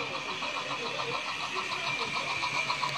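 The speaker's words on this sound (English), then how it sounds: "This one's got a little piston in the tender, which is making a sound like a chuffer." Model GWR Hall-class locomotive Albert Hall, number 4983, with a small piston in its tender that produces a steady, rapid rhythmic chuffing. The chuff runs continuously at a fairly even level from start to finish.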